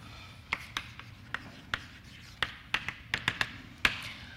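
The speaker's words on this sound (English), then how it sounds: "I can at least write down a sketch of a proof" Chalk or pen tapping and scraping on a board while a mathematics proof is written out by hand, about a dozen short, crisp taps scattered irregularly, close and fairly quiet with no talk.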